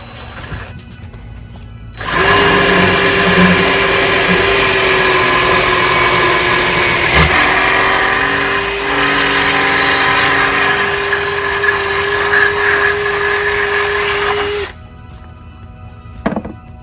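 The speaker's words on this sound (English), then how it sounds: "you're going to need to take a concrete bit or a brick bit and drill through that hole" A power drill fitted with a concrete or brick bit bores through brick while cedar shutters are being mounted, running loud and steady for about twelve seconds after a quiet start, with one short dip midway, then stopping abruptly.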